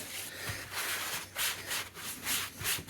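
Close, soft rubbing strokes in a repeated rhythm, like a cloth or sponge mopping excess water off plaster model rocks, with no talking.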